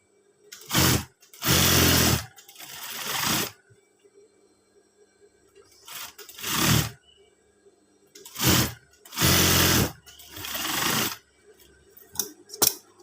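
A sewing machine stitches a Scout uniform in loud, whirring bursts of one to two seconds, about six runs in all, separated by quiet pauses.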